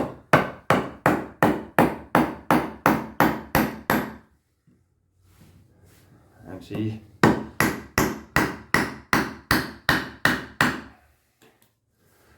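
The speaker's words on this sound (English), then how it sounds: "We can try to hammer it in here." Steady rhythmic hammer blows drive a Condor Pandur fighting knife into a wooden stump, about a dozen evenly spaced strikes, a pause with a short spoken word and rustling, then another run of strikes.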